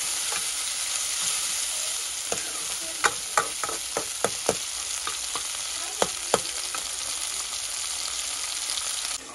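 Tomatoes fry for pasta in a hot pan with a continuous close sizzle, and a spoon scrapes and stirs in several sharp taps.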